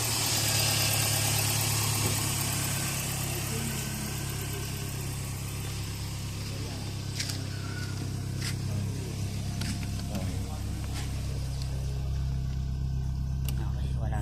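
A car engine idling after sitting unused for years rumbles steadily and close, a low constant drone with faint clicks, while people talk nearby.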